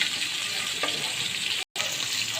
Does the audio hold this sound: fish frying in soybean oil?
yes